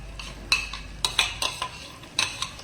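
Onion being stirred into melted butter in a pan for a stovetop stuffed pizza, with several sharp spoon-on-pan scrapes and clinks at irregular intervals over a faint low sizzle, close and fairly quiet.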